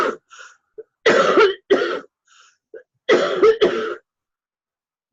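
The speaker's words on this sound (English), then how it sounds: "and then I coughed" Several harsh coughs burst out close by in two clusters, each pair of hacks separated by quiet pauses and faint throat sounds, with no talking.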